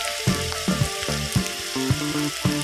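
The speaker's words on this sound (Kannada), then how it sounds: "ಬೆಳ್ಳುಳ್ಳಿ ಸ್ವಲ್ಪ ಹೊತ್ತು ಫ್ರೈ ಆಗಬೇಕು ಅಷ್ಟೇ ಸಾಕು ನೋಡಿ ಇಷ್ಟು ಫ್ರೈ ಆದರೆ ಸಾಕು" Garlic frying in oil in a pan while making a bimbuli pickle, a steady close sizzle with a few clinking scrape or stir sounds over it.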